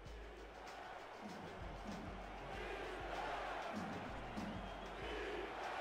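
Football stadium crowd at a Sioux Falls at Houston game, a broad steady roar of many voices with faint rhythmic chanting swelling through the middle, a commentator speaking over it.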